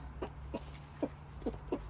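Backyard chickens cluck in short, evenly spaced bursts while pecking through green bean plants and garden scraps thrown to them after harvest, five clucks at moderate distance over a steady low hum.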